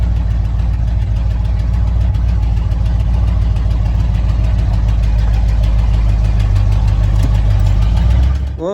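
A 1987 Ford Bronco XLT engine idles close by with a heavy, steady low rumble that holds evenly before cutting off at the end.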